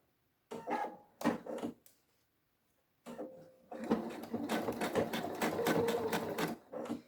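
A sewing machine stitches fabric close by, first in two short bursts, then in a longer steady run of rapid rhythmic needle strokes.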